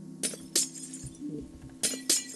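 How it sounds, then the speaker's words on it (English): Glass panes shattering in a Minecraft survival map, four sharp separate breaks in two quick pairs over a low steady hum, close and fairly loud. "Who doesn't like breaking glass at the beginning of a game"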